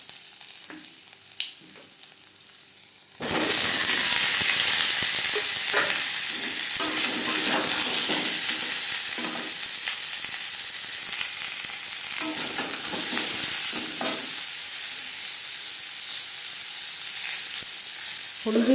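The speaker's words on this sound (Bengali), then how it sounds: "আলু ভেজে নেব।" Potatoes for a vegetarian aloo dum drop into a pan, and a loud, dense sizzle bursts in after a quiet start. It keeps hissing steadily up close, with faint stirring scrapes inside it.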